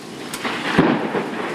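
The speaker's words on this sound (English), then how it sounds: "Here comes the hail." Hail and rain pelt down in a tornado-spawning thunderstorm, a dense rushing clatter with a low rumble of thunder swelling in the middle.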